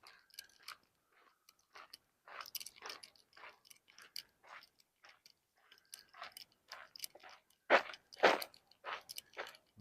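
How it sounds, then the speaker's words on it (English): Footsteps crunch on gravel along an alley south of Broadway in Regina on a fall walk, close, uneven crunching bursts with short gaps, one heavier scuff near the end. "At least you can hear my feet crunching in the gravel"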